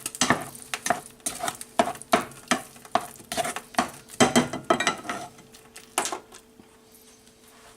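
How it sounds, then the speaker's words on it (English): Pumpkin cooking in a pan with cinnamon, nutmeg and salt, stirred in a regular rhythm of scraping strokes over a low sizzle, each stroke close and distinct. "Cinnamon, nutmeg, salt, and the pumpkin. Just cooking it a little bit."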